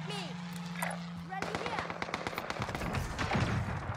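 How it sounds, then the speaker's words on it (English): Rapid gunfire bursts from Call of Duty Warzone Pacific on the Caldera map, a dense stream of sharp shots filling the second half over a lower steady hum, with a player talking during the action. "The bastards are shooting at me."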